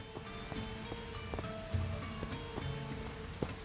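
Rain falls in the indie game Perish, a steady soft patter running throughout, broken by a few faint tonal blips and short thuds.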